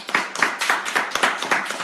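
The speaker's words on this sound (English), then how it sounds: "So let's greet and applaud for Anna." A church congregation claps in a steady rhythm, around seven or eight distinct claps in quick regular succession, close and fairly loud.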